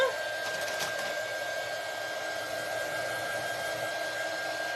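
A handheld dryer blows steadily over freshly painted craft pieces for a pumpkin hanger, a close, even whirring airflow with a faint high whine, starting abruptly and running throughout.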